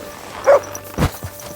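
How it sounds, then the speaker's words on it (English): A dog in the medieval video game Kingdom Come: Deliverance II gives two short, sharp barks about half a second apart, close and clear, with a faint yip trailing after over a quiet ambient backdrop. "You silly doggy."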